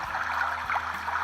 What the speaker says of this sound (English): It is the sound of the flow of the river.